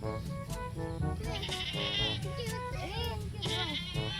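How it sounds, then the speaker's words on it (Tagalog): Goats bleat repeatedly, several wavering cries overlapping close by, with children's voices faintly in the background. "may kambing dito"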